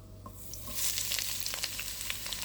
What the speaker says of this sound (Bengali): পেঁয়াজগুলো দিয়ে দুই থেকে তিন মিনিটের মতো ভেজে নেব কিছুটা নরম করে ভেজে নেব